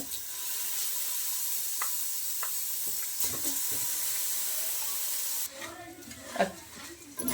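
Washed rice sizzling and being stirred in a pan with fried mutton biryani masala, a steady close hiss with scraping stir strokes, then a quieter stretch where the frying continues and scraping clatters through.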